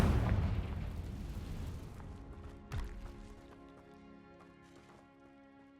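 A Confringo spell explosion in the video game Hogwarts Legacy, one loud booming blast that rumbles and fades, then a short thud and lingering tonal ringing.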